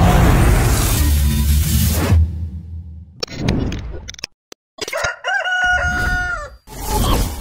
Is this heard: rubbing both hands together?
no